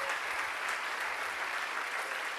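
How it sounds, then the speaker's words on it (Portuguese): Applause from a church congregation during a sermon, a steady dense patter of many hands clapping throughout, moderately loud and filling the room with no talk over it. "Aplauda o Senhor."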